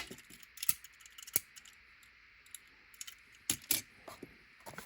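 Plastic packaging of Matchbox toy cars being cracked open, a few sharp faint clicks and snaps scattered over a quiet background.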